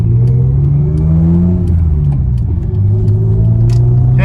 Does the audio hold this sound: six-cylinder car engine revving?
yes